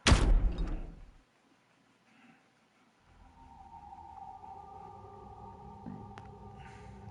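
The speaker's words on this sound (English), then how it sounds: "After 2 more decompressions, the last door finally opened." The last door in the video game Zero Escape: Virtue's Last Reward bursts open with one loud, close whoosh and thud, then near silence, then a low steady hum with a faint tone.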